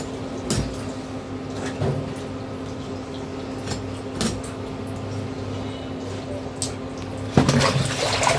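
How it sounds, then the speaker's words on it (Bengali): Ridge gourd and potatoes being washed in water in a home kitchen, faint splashing and sloshing with a few knocks against a container under a steady background hum. "ঝিঙে আলুটা ধুচ্ছে"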